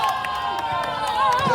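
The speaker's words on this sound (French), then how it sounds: "Contre magistral qui arrache les acclamations du public." A basketball tournament crowd cheers a blocked shot, with a steady roar of voices, shouts and some clapping held at an even level throughout.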